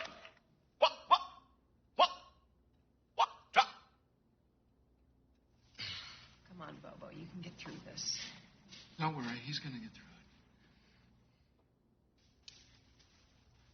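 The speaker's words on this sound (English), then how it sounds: "The noise you just heard is the Tourette syndrome I've been living with since I was 6 years old" Tourette syndrome vocal tics from a man who has had them since age six: several sharp, brief bursts in a row, followed by breathy, strained noises, with a voice speaking briefly afterward.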